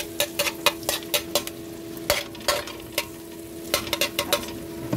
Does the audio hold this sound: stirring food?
yes